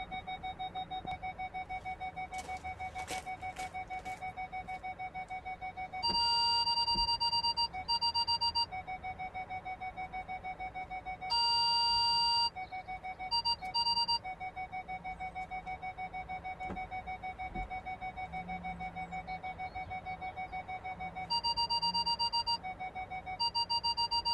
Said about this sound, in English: let me pass in front of the sensors so you can hear it beeping differently